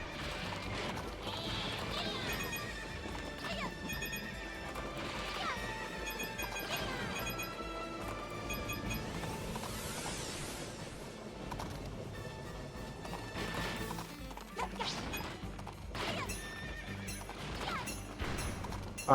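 A horse neighs and gallops in the Princess Peach: Showtime! video game, with whinnies and clip-clopping hooves over music and clinking effects, fairly close and recurring.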